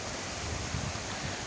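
Steady broadband rush of water from the Watu Lumpang waterfall in Mojokerto, a dense continuous roar heard up close with no talking.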